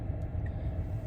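A Rayco RG45X stump grinder's 45-horsepower turbo diesel engine running: a close, steady low rumble with a slight rough pulse, held throughout the short stretch without talk.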